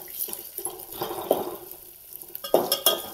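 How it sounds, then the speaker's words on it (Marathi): Potatoes and curry leaves being stirred in hot oil for masala bhat, with scraping and clinking spoon strokes in short bursts over a faint sizzle, close and alone. "आता ही कढीपत्ता बटाटा टाकून घेते, तेलात चांगलं फ्राय होतंय। ती पण टाकल्यानंतर असं मिक्स करून घ्यायचं।"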